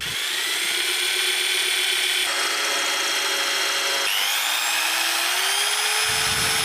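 A power tool cutting a rough round hole out of a wooden board for a homemade flour mill, a steady loud high-pitched whine that shifts pitch at a few points and drops off near the end.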